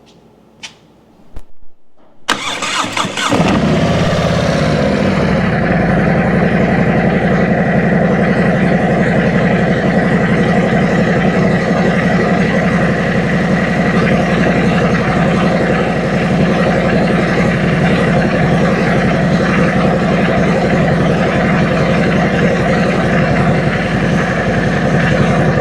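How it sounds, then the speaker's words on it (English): A used motorcycle's engine cranks and catches after a couple of seconds of near silence, then settles into a loud, steady idle that runs close up and alone for the rest of the time. "now I'm going to turn the bike on"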